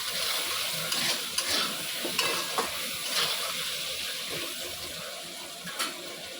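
Potato pieces with a little salt fry in a pan, a continuous loud sizzle broken by occasional stirring scrapes and clinks of a utensil throughout, with no voices.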